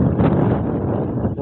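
Strong wind buffets the microphone beside a rising river near a house gate during a flood, a steady broadband roar that fills the whole stretch with faint voice traces underneath.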